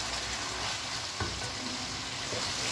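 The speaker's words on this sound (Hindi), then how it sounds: "अब हम अच्छी तरह इसे तकरीबन 5 मिनट भूनेंगे।" Green chillies fry in a karahi with a steady, dense sizzle that stays close and constant throughout, broken only by a brief stirring scrape.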